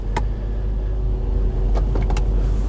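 A Mercedes W126 idles after being switched over to LPG, a steady low engine hum running throughout with a couple of brief mechanical clicks and rustles near the end.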